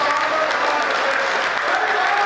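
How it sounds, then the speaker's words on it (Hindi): An audience claps steadily at a live Hindi stand-up comedy show, a dense, even wash of applause filling the short stretch without pause. "एक बार ताली बजा के मेरा भी"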